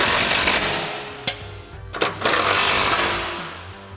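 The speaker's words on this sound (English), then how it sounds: "So we've got our 13 mil on our impact, and we're gonna run this in" Impact wrench with a 13 mm socket runs frame mount bolts for drop side step bars on a Jeep Wrangler JL, a loud, continuous buzzing hammer with brief pauses and bursts, close up.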